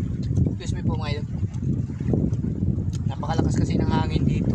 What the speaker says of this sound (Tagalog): Napakalakas kasi ng hangin dito.